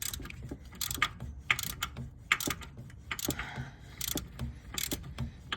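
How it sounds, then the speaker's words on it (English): Bolts being loosened on the AC compressor of a 2004 Hummer, with close metallic ratcheting clicks and tool clinks in irregular bursts and no talking. "I'm just loosening these bolts."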